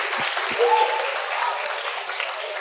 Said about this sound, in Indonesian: Ayo tepuk tangan dong buat temannya.